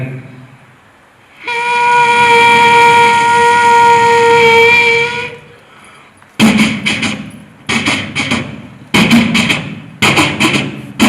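In a mimicry performance at a state school arts festival, someone mimics an electric train: a long, horn-like whistle, then loud rhythmic bursts like wheels clattering over rail joints.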